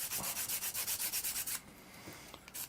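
Edges of a 3D printed floating aquarium platform are sanded by hand: about a dozen quick, even, scratchy strokes in a steady rhythm, then quieter scattered rubs and a final short scrape.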